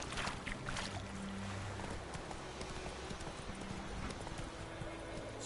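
Hooves of a horse pound in a rapid galloping rhythm in The Witcher 3: Wild Hunt, steady and near over a dense ambient game soundscape.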